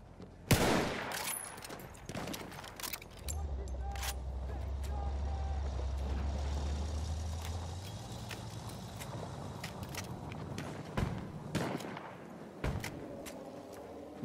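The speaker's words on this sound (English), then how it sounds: "Artillery fire." Artillery fire in Battlefield 1 lands as several sharp, loud booms scattered through the scene, with a low rumbling vehicle drone in the middle and bursts of battlefield noise around them.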